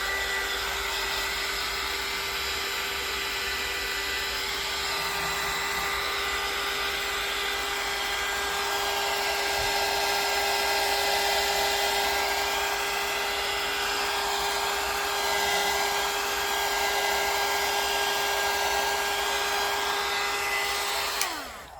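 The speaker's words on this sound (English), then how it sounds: "So I just have my air dryer here. Just hit this for a couple minutes." A handheld air dryer blows steadily over wet splashed paint on a Halloween decoupage pumpkin, a loud, constant whirring hiss lasting about twenty seconds that cuts off abruptly at the end, with no talking.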